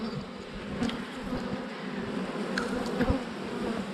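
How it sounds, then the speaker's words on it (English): Close, continuous buzzing of many honeybees humming around a hive, a low steady drone with a few individual bees passing nearby. "So a good number of bees."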